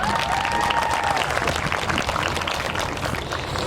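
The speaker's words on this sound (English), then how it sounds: "Please give them a last round of applause" Sustained audience applause at a high school senior awards ceremony, a loud even wash of many hands clapping with faint cheering mixed in and a brief whistle-like tone early on.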